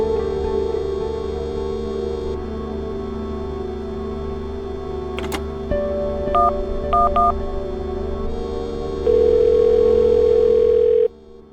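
A steady dial tone hums, then a short run of touch-tone beeps as a number is keyed in, followed by a louder tone near the end; no voices.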